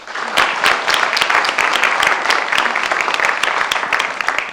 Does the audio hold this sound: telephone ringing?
no